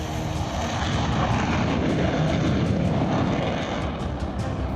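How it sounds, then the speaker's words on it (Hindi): A fighter jet roars low over the Purvanchal Expressway in Uttar Pradesh, a loud, continuous engine rumble that fills the whole stretch without letting up, with no voices. "उत्तर प्रदेश के पूर्वांचल एक्सप्रेसवे पर लड़ाकू विमान की उड़ान"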